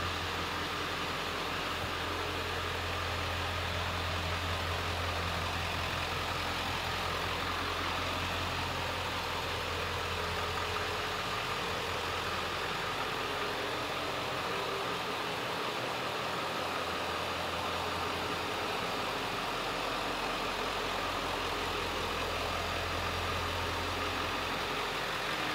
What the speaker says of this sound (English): Truck's got a good exhaust tone